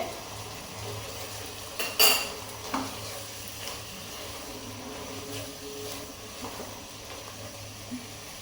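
Chow mein noodles go into a pan with oyster sauce, bringing a couple of sharp metallic clatters of utensils against the pan, then soft scraping and tossing over a steady kitchen hiss.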